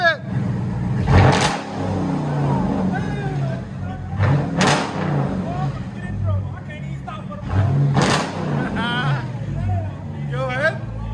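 Loud, raw exhaust from a straight-piped Dodge Charger V8, with three sharp revs near 1, 4.5 and 8 seconds over a steady idle rumble, while people talk nearby.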